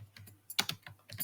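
Typing on a computer keyboard: a quick, irregular run of sharp key clicks, close-miked and alone, with a couple of louder taps in the middle.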